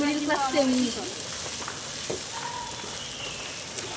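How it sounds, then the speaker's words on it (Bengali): Peas frying in a pan over a wood-fired stove on a rooftop give a steady, close hiss and crackle while being stirred, with a brief voice-like tone near the start. "আমার মেয়ে রান্না করতেছে আজকে ছাদে কাঠের চুলায়"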